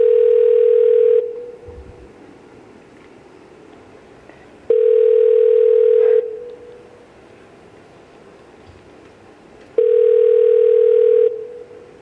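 A telephone ringback tone sounds three times while waiting for voicemail: loud, steady electronic rings of about a second and a half each, separated by long, quiet pauses.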